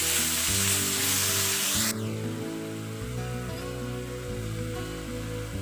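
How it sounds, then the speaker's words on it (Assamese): Ginger and garlic paste frying in a pan gives a steady hiss that is loud at first and then settles to a softer sizzle, with background music playing throughout. "আদা নহৰু ভুনা হৈ গৈছে।"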